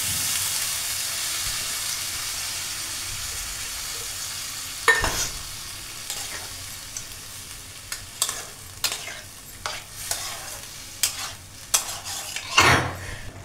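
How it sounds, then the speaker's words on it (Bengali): Broken wheat (dalia) is poured into a pan of carrots over steady background hiss, bringing a rush of grainy noise followed by scattered clinks and scraping stirs that grow busier toward the end. No one speaks. "এবার আমি ডালটা এর মধ্যে ঢেলে দিচ্ছি।"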